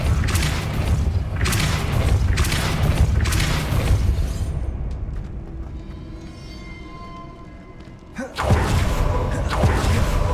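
Depulso spell cast in Hogwarts Legacy, a series of deep booming thuds and whooshes that fade into a quieter magical shimmer, followed by another sharp burst near the end.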